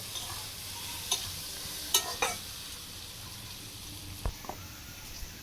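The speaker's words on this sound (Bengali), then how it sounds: "এবারে খুব ভালো করে ফোড়নটা এখানে ভাজা হয়ে গেছে, সমস্ত ফুলকপিটা এর সঙ্গে মিশিয়ে দিতে হবে" Cauliflower stirred into sizzling fried whole spices in a pan while making cauliflower chops, a soft steady sizzle with a few scraping and clattering stirs of a spatula, fairly quiet.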